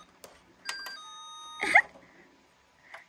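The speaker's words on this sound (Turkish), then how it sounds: "Bak, zili de var." A toy dollhouse doorbell gives a few short electronic ding-dong chimes, close and clear against an otherwise quiet room, ending with a faint extra ring.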